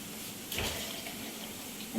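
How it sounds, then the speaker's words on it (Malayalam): Hot hibiscus drink is poured for a shake, a soft continuous liquid splashing close by, with a brief sharper spill partway through. "ചെമ്പരത്തി ഒഴിച്ചു കൊടുക്കാം"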